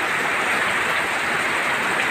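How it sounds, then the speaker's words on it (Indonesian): Heavy rain pours in a steady, dense hiss with strong wind, loud and unbroken throughout with no voices. "tiba-tiba hujan besar, angin kuat."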